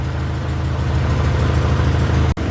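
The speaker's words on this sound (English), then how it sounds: "Sounds like it's got an exhaust leak." A 2002 VW Beetle engine idles steadily in a shop with a suspected exhaust leak, giving a low, even rumble with a faint ticking texture, close and continuous, cutting out abruptly near the end.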